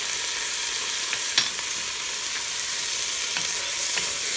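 Minced garlic and onions frying in a pan for Creole red beans and rice, a constant bright sizzle close up with a few soft scrapes as they are stirred.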